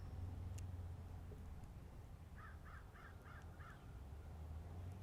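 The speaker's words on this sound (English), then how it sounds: "The crow says," A crow caws five times in a quick, evenly spaced series, moderately distant, over a steady low hum and faint background noise in a graveyard.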